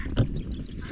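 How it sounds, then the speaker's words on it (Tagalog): A duck gives a single short quack up close amid a noisy farmyard background, with no talking. "Galing ng mga itik."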